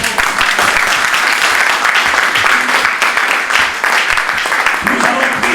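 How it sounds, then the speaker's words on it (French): A church congregation applauds for the Lord, dense sustained clapping from a large crowd that stays loud and steady throughout, with voices mixed in. "Acclamons pour le Seigneur"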